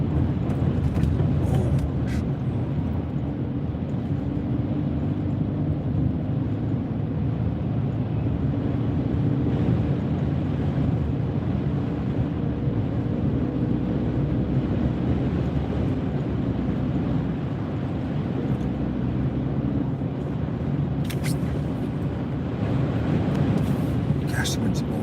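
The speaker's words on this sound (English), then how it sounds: "Gosh, the wind's blowing hard." Strong wind blowing hard during an arctic front with freezing drizzle and drifting snow in Tulsa, Oklahoma: a steady, loud rushing roar lasting throughout, with a voice speaking over it.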